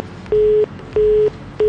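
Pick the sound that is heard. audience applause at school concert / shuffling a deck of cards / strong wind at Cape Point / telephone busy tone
telephone busy tone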